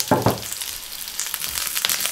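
Onion dropped into hot oil in a wok for a braised pork belly dish, with a loud burst of sizzling at first that settles into a steady frying hiss close by.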